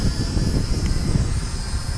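A Visuo Zen Mini budget GPS drone hovers in strong wind, its steady high propeller whine layered over loud, rumbling wind noise on the microphone, continuous and close throughout.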